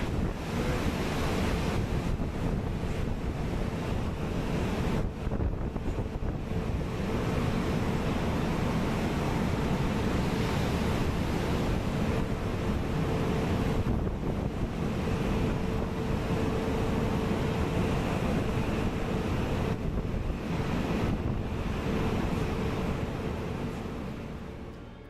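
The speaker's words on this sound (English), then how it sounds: "your oil rig happens to be in the North Sea, which regularly sees waves like this" Massive ocean waves pummel a North Sea oil rig in a continuous, dense roar of surf, mixed with heavy wind buffeting the microphone throughout.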